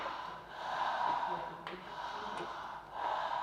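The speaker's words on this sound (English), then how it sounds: "I will invite you to go with deep connected breathing with the open mouth." Slow, deep open-mouth breathing in a guided relaxation session, with inhalation and exhalation joined without a pause: soft, airy breaths rising and falling in a steady continuous rhythm, close and fairly quiet.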